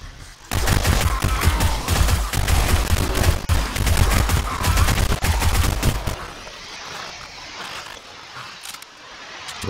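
Submachine gun fire in the game 7 Days to Die: a loud, rapid, sustained burst of close automatic shots lasting several seconds, then breaking off into a quieter background.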